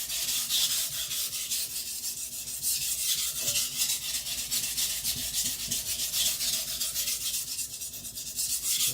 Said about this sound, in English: I'm sharpening and sharpening and sharpening, and it doesn't do anything.